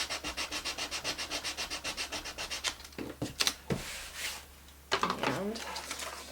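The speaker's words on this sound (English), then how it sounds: "Just using a sanding disc." Rhythmic rasping of a sanding disc on a chalk-painted tissue box for a few seconds, then scattered scrapes and knocks as the work slows, heard up close.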